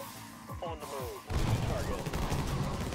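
Shotgun blasts from the sci-fi alien-shooting game Infested Planet rattle in a dense, rapid volley after a few faint electronic chirps, loud and layered with crashing impacts.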